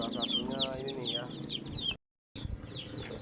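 Sick backyard chickens with a snoring respiratory illness cluck and call close by, a rough, busy flock sound that breaks off into a short silence before resuming.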